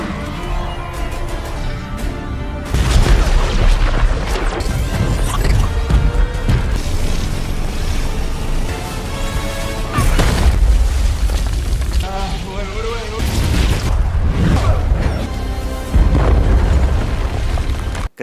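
Explosion sound effects from a superhero film recap: repeated heavy booms and crashing debris in a dense, loud cinematic mix, with narration running underneath.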